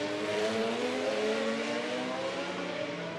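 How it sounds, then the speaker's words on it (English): Formula 3 race cars lapping the hilly Macau Grand Prix street circuit, a dense, continuous engine roar with rising harmonic whine, loud and steady throughout with no voices. "So cars out on circuit"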